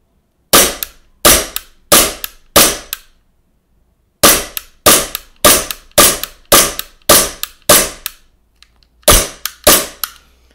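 A WE Glock 19 Gen4 gas blowback airsoft pistol fitted with a RMR sight kit fires about fifteen sharp, loud, cracking shots in quick bursts with short pauses between groups, close up and with no talking.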